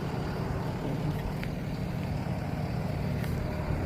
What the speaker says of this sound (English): The reason why you hear that diesel run in the background